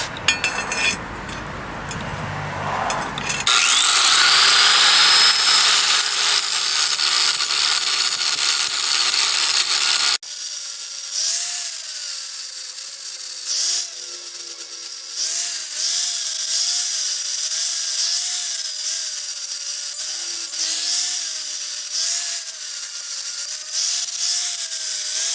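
Power grinder biting into a steel lawnmower blade while sharpening it, a loud, steady whining grind that starts after a few seconds of rough handling and then settles into a lower, wavering drone, close up with no voices.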